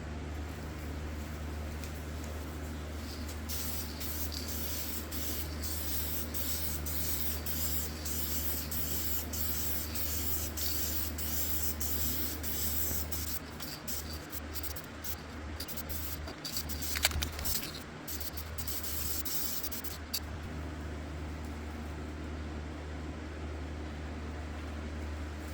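Bursts of spray paint hiss onto a '79 EVH Bumblebee-style guitar body as yellow paint goes on in coats, repeated close, steady sprays over a constant background hum.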